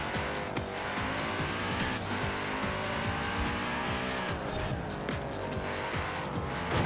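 An Audi RS6 wagon races and brakes hard in Forza Horizon 4, its engine droning loudly and steadily while tires squeal and skid through the stop, with no talking over it.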